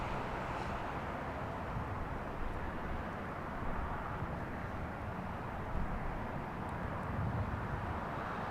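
An airliner lands at LAX in a light crosswind, its engines a faint, steady, broadband rumble heard from a distance with no voices over it.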